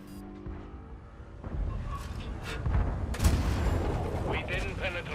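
Tank cannons fire in World of Tanks, with booming shots and a rumbling engine drone, plus a heavy blast midway, while someone talks over the game sounds.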